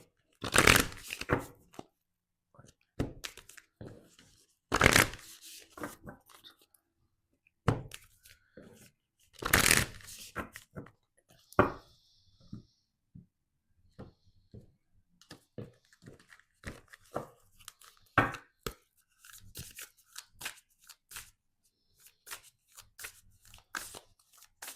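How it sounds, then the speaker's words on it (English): Sacred Symbol Oracle tarot cards shuffled by hand up close, repeated crisp riffling bursts and soft card slaps with pauses between, quiet overall. "Now we're going to take out two cards from the Sacred"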